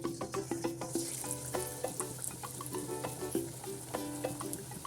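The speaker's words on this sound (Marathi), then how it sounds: "आता आपण फ्राय करून घेऊ प्रकारे तेल गरम झालेलं आहे" Mumbai-style chili fritters (mirchi bhaji) crackle in hot oil, a close, steady sizzle broken by rhythmic stirring clinks and light taps of a utensil against the pan.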